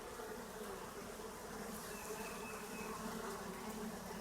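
A virgin swarm of honey bees with many queens makes a dense, continuous buzzing hum close by, steady throughout with no voices.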